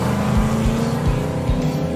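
Toy race cars take off at the start of a race with a loud continuous engine-like roar and low rhythmic thumps, heard close up and unbroken.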